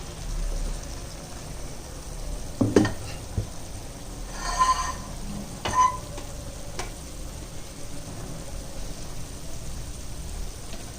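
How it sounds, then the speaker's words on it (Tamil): Ground shallot, ginger-garlic paste and fennel masala are sautéed in a pan on a second stove for a chicken gravy, giving a quiet, steady sizzle with a few scattered clanks of a spoon against the metal. "அதை வந்து நம்ம இன்னொரு பக்கத்து அடுப்பில் அதை வதக்கி விட்டுக்கிறோம்."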